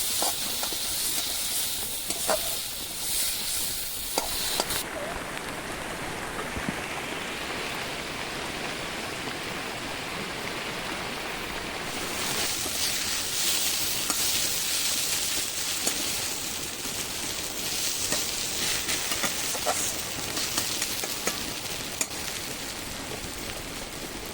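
Giant taro fritters deep-frying in oil in a poor village woman's kitchen, a continuous loud bubbling hiss lasting the whole stretch with a few sharper crackles and shifts in intensity, no voices.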